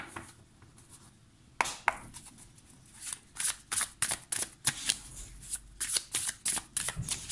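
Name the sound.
shuffling Muse Tarot cards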